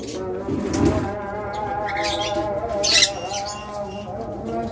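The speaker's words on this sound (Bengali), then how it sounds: "এরপর আমরা যদি আপনাদের কিছু লাভ বার্ড দেখাই" Lovebirds, including a blue opaline, chirp and call in short bursts close by, with a steady harmonic hum running underneath and occasional brighter squawks.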